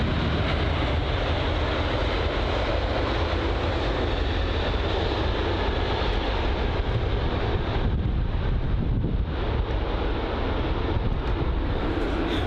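A British Airways Airbus A380 departing Heathrow, a loud, steady, broadband engine roar mixed with wind buffeting on the microphone and holding nearly constant throughout.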